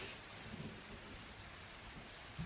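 A storm and whirlpool sound effect from a Dungeons and Dragons session: a dense, faint wash of rain-like hiss with low thunderous rumbling, steady throughout, with a couple of soft low thuds and no speech.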